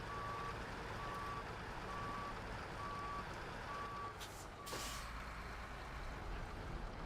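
A truck reverses with evenly spaced high beeps repeating about every half second over a low idling rumble, then a sharp hiss of air brakes bursts out near the end; outdoors, no talk.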